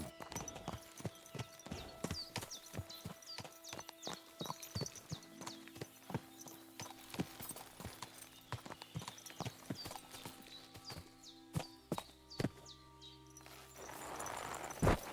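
A horse in the video game Kingdom Come: Deliverance 2 clip-clops at a steady walking rhythm, its hooves close and clear on hard ground, while a calm ambient music bed hums underneath.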